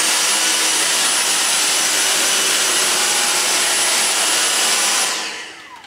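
A Dyson V6 cordless vacuum cleaner runs over a floor with a loud, steady high-pitched whoosh, then powers down and fades out in the last second.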